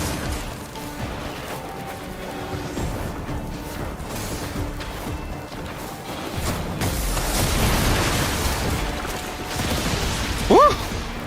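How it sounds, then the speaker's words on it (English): Explosions in the Warframe video game, heard as booming crashes with whooshing debris that build in intensity toward the middle, plus a brief sharp burst near the end, without talk. "Forgot about those explosions."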